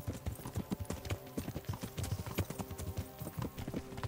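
Hooves clip-clop steadily as a horse is ridden in the medieval video game Kingdom Come: Deliverance, a brisk, fairly quiet rhythm of hoofbeats with no talking over it.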